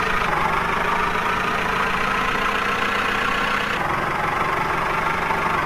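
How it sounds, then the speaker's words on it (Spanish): Steady video-game tractor engine idling at a constant low rumble, close and unbroken, with no voices over it. "Y vamos en nuestro tractorillo, vamos."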